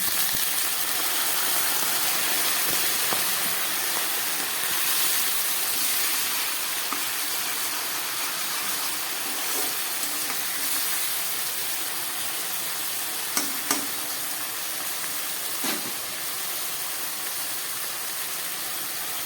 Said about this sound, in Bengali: দিয়ে দিচ্ছি সামান্য একটু মশলার জল যাতে ভালো করে কষাতে পারি